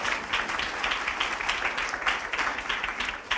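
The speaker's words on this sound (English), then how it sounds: "So let's give them a round of applause." An audience at a TEDx event gives a round of applause, dense continuous clapping from many hands filling the hall at a steady level.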